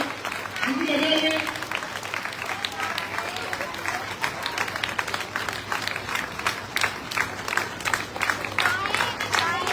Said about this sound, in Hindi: तालियां की बजाएंगे, तालियां जितने बजाएंगे।